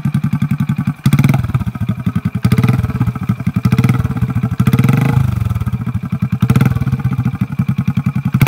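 A motorcycle fitted with a diesel-fed smoke system in its silencer, the engine throbbing loud and close in rapid pulsing beats, with revs rising and falling several times.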